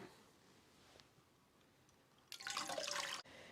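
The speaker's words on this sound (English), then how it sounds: "We're ready to add the cold water." Cold water is poured into dissolved jello after a few faint drips, ending in a short, close gush of splashing liquid lasting under a second.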